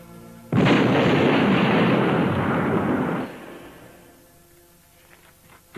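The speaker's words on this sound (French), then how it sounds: "tué par l'explosion d'une bombe dissimulée dans sa guérite" A bomb hidden in a guard booth detonates in an action film: one loud, close blast that roars as a sustained rumble for about three seconds, then dies away into quiet, with no talk.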